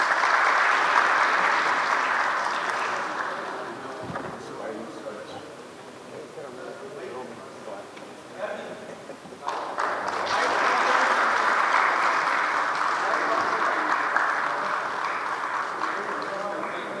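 Sustained audience applause at an electric bus service inauguration ceremony in Lahore, loud and steady, dipping briefly midway before swelling again and fading slightly at the end.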